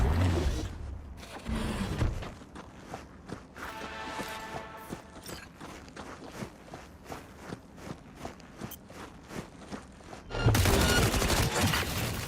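Rhythmic rapid gunfire with tracking bullets in Cyberpunk 2077 on PS5, a steady string of sharp shots and footfalls close up, with louder bursts at the start and end.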